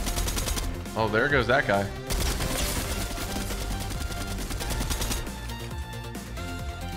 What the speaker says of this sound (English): Leak some bullets through because this thing's overpowered